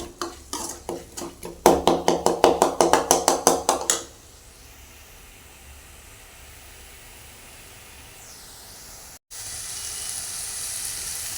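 Onions and tomatoes sauté in a pan for a potato brinjal kuruma. A quick run of rhythmic spoon scrapes and stirs comes first, then gives way to a soft, steady sizzle.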